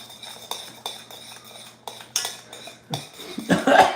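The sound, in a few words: stirring cheesecake mixture in a pot with a utensil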